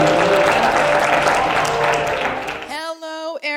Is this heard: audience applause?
yes